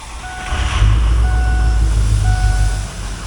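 2004 Ford F250 Harley Davidson pickup with a 6.0L Powerstroke diesel and 178,000 miles, heard at cold start as a deep, loud rumble that swells and holds steady, with three evenly spaced electronic beeps sounding over it.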